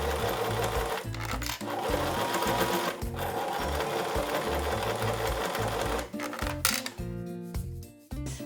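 A sewing machine stitches the hem around a princess cape costume, running in long continuous loud bursts with brief pauses and a faster, choppier stretch near the end.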